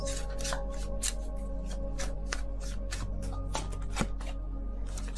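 Tarot cards shuffled by hand for a reading, a rapid run of close, crisp riffles and slaps continuing steadily without any voice.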